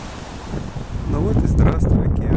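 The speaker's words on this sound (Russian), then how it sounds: "Ну вот и здравствуй, океан." Ocean surf and gusting wind on a beach in Boston, a steady broadband wash that swells slightly toward the end, with wind buffeting the microphone and no clear voices.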